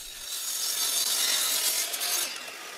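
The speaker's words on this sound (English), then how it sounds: "I also cut a bevel in the top part of the vise jaw." A handsaw cuts a bevel into the top of a wooden vise jaw for a workbench leg vise, giving a steady, continuous rasping stroke close up for nearly three seconds with no talk.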